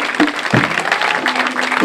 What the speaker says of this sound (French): Est-ce qu'on peut acclamer le Seigneur pour sa vie?